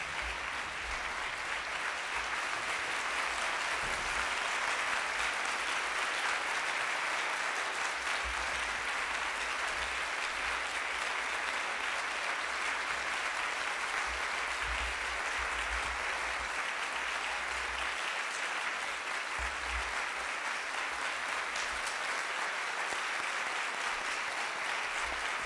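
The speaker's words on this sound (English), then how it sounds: "Please rise and give Anita Hill a big round of applause." A standing audience at a Martin Luther King Jr. celebration keynote in Burlington, Vermont, applauds in a long, dense, even roar of clapping that lasts the whole stretch without speech.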